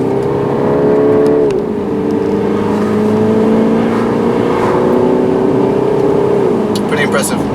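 Engine of a 2019 MINI Cooper S Countryman ALL4 steadily droning while driving, its pitch stepping down through downshifts, heard close from inside the cabin under continuous road noise, with a voice speaking over it.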